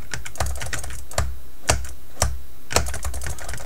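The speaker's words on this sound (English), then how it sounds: "Finger typing, I'm afraid, guys." Fingers tap out sparse keystrokes on a computer keyboard: a handful of crisp, separate clicks at an uneven pace, close and clear over a quiet background.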